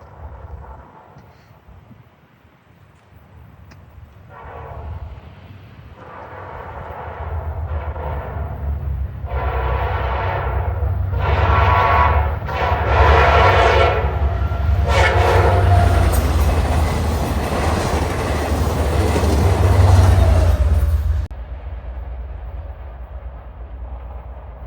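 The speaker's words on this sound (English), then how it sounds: "here we see Amtrak 72 on its return trip to Raleigh, making the northbound run through Thomasville" Amtrak 72 passenger train on its northbound run through Thomasville, approaching with a rumble and sounding a series of loud horn blasts as it passes close by, then rolling away.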